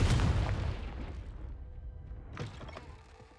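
A Confringo spell blast in Hogwarts Legacy lands as a heavy booming explosion that rumbles and slowly decays, followed by a second, smaller crackling impact a couple of seconds later.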